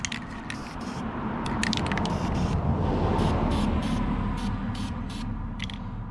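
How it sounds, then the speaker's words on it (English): Spray can of anti-rust paint being sprayed onto a trailer, a close steady hiss with repeated short, sharp spurts layered on top. "hit her some spray paint."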